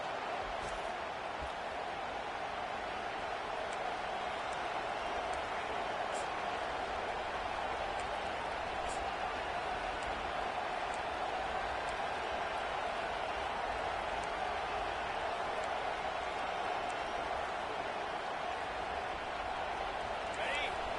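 A huge stadium crowd at a Texas A&M (TAMU) college football game roars steadily on a 4th down, a dense, unbroken wall of sustained cheering and noise lasting throughout.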